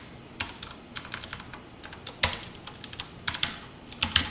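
Code is typed on a computer keyboard in quick, irregular bursts of light key clicks with a few sharper strikes, close and fairly quiet, with no voice over it.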